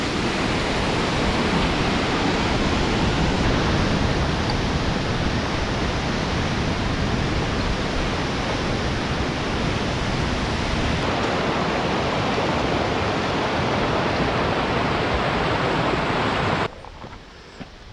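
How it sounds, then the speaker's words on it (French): Cascade de Bérard waterfall beside the Tour du Mont Blanc trail roars in a dense, steady, loud rush of falling water that fills the whole clip and drops away abruptly at the very end. "Cascade de Bérard."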